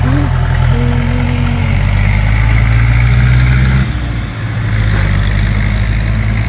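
A car engine runs loud and close on a country road, a steady droning rumble that shifts pitch partway through as the vehicle passes.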